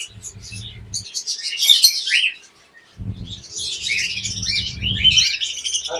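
Budgerigars chirp and squawk in bursts inside an aviary setup, bright twittering calls rising and falling near at hand over a low mechanical hum that cuts in and out.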